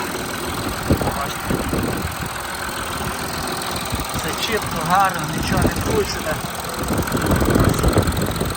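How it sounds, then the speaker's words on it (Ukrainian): A 2018 Audi A6 Allroad engine idles steadily after a start, a smooth, even hum that runs under someone talking up close. "Мотор робить як дзвоник."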